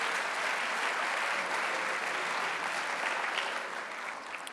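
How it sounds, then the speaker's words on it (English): Sustained, loud clapping from a large crowd, steady throughout and easing slightly at the end. "let us give them and our youth services staff a round of applause for doing a great job."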